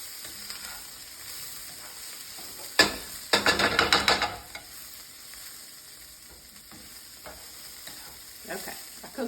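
Onions fry in a very hot pan for potato soup, with a loud burst of crackling sizzle about a second long that settles back to a low hiss and a few faint scrapes, nearby and without talk.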